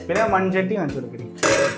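Small metal pots and a tiny charuvam pan bought at Vagamon are handled, giving several close, bright clinks and clatters with a louder burst of clanking near the end.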